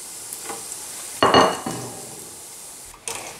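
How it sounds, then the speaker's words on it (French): Hot oil sizzles steadily as eggplant and mozzarella croquettes drop into the deep fryer with a loud splashy crackle, then settles into a constant frying hiss with faint utensil clinks. "je vais les mettre dans une friture chaude"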